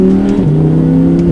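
A 2020 Audi R8 V10 Quattro pulls away after dropping a couple of gears, its engine a loud, steady drone that dips briefly as the gear changes and then holds firm, heard close and without talk.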